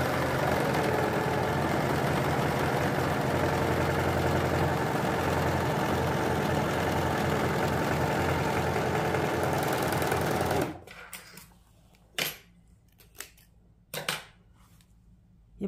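A Pfaff Admire 1000 overlock sewing machine stitches fabric with a steady, even mechanical whir for about ten seconds, then stops, followed by a few sharp clicks and handling knocks in the quiet.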